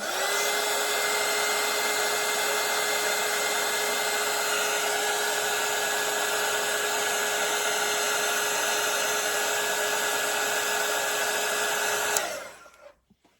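A hair dryer runs steadily at close range for about twelve seconds, blowing over wet watercolour paint on a Christmas floral snowflake painting, then cuts off abruptly and its whine winds down into silence.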